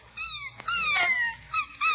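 A Christmas puppy whimpers and whines beside a fire, giving several thin, high, wavering cries in short bursts with brief pauses between them.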